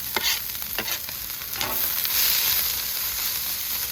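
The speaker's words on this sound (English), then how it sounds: "We're gonna get the onions on there, along with the potato." Hash browns, onions and bison sizzle on a Pit Boss griddle, a steady hissing fry close by, broken by a few scraping stirs of a metal spatula and no talking.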